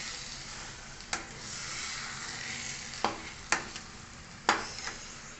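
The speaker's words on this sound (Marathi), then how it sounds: "असा लालसर मसाला भाजून घ्यायचा आहे पूर्ण" Reddish spice paste for mutton roasting in a pan, a soft steady sizzle broken by a handful of sharp spatula scrapes, close and moderately quiet, with no one talking.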